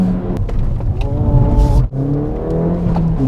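A manual Ford Fiesta ST hot hatch accelerates hard in second gear, its engine note rising loud and close, then briefly dipping before pulling strongly again.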